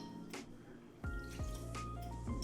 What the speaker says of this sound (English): We're gonna add a splash of vanilla.